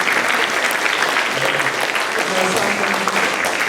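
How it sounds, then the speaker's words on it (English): Audience applause for parents at a school student council installation ceremony, a steady wash of many hands clapping throughout, fairly loud and close. "I'm also like to also give an applause to everybody, to the parents that are here, folks."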